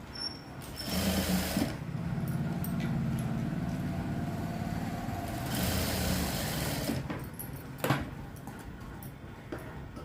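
Sewing machine stitching a straight seam on a blouse, a steady fast mechanical whirring hum, close and loud, starting and stopping with a couple of brief pauses, no talk.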